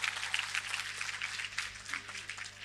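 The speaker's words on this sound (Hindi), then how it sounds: "जोरदार तालियां हो जाए हमारे विजेताओं के लिए।" Audience applause for prize winners at a Parul University Independence Day event, a faint, steady patter of many hands clapping throughout, with a low hum beneath and no voices.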